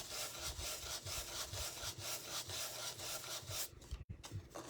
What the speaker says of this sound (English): I'm going to scrub this in and just keep scrubbing and scrubbing and scrubbing